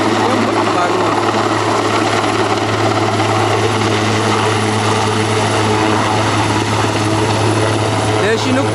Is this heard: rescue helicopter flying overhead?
yes